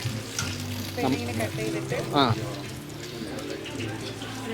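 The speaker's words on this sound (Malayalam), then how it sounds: "വെളിച്ചെണ്ണ ഒഴിച്ച് അച്ചിലേക്ക് ഇട്ട് കൊടുക്കും." Quail egg sticks sizzle steadily in coconut oil at a Munnar street food stall, a continuous close frying hiss with brief bubbling bursts while people talk over it.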